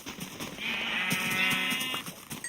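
A sheep bleats once in the Minecraft video game, a steady, wavering cry of about a second and a half, fairly close, over faint game clicks and footsteps.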